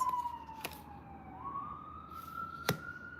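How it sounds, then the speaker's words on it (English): A distant emergency siren wails, its pitch slowly falling then rising, with a couple of sharp knocks nearby. "For a Monday afternoon, it's a lot of sirens going on."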